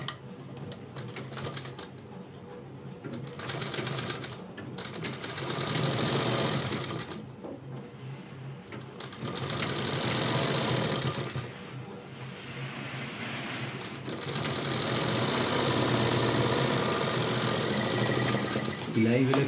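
Sewing machine stitching a blouse sleeve, running in several bursts of steady rapid clatter separated by short pauses, with brief moments of quiet in between.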